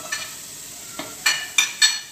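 Onions frying in a pan while being stirred, with a soft steady sizzle underneath and four or five sharp scraping clinks of the utensil against the pan, close and fairly quiet.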